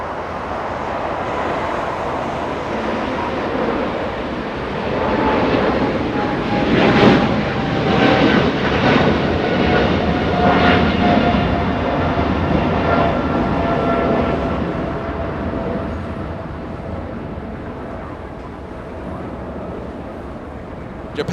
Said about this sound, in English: We have Japan Airlines getting a move on Japan 61, flying to Tokyo Narita. Lifting off heavy